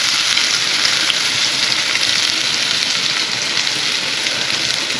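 Cumin, garlic and ginger sizzle steadily in hot oil in a home kitchen, a loud, even hiss with faint crackles running without pause.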